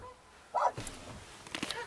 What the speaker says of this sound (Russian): Не можем выйти из-за того, что собачки гавкают.